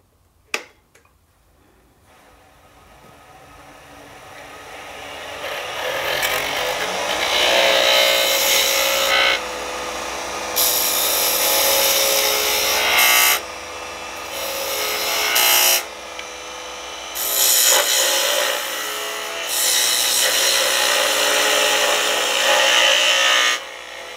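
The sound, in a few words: shaping a wooden honey dipper head with a spindle gouge on a lathe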